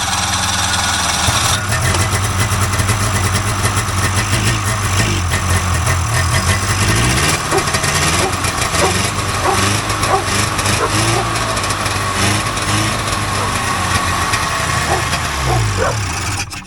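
A vintage Polaris Indy 500 snowmobile engine cranks on its electric start and catches. It settles into a loud, steady, buzzy idle with a rough, knocking edge, close by and continuous for the whole stretch.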